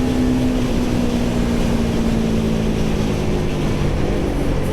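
A Royal Enfield Guerrilla 450 motorcycle at full throttle, its engine a loud, continuous drone with a steady rising tone and strong wind rush, close and unbroken.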